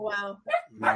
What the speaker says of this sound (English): Whose dog is that? That's my dog.